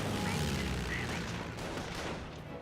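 Sniper shots and MG42 machine-gun fire rattle through a Company of Heroes battle in dense continuous bursts, mixed with battlefield rumble.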